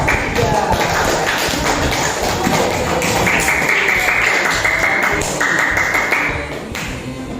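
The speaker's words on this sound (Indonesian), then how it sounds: "kita beri tepuk tangan untuk kelompok 3" Classroom applause for a student group, a dense continuous patter of many hands clapping close by, steady for about six seconds before tapering off, with some voices mixed in.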